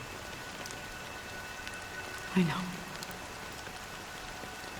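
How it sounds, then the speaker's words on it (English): Steady light rain patters throughout in Honkai Star Rail, with a brief soft voice speaking near the middle. "it's still raining."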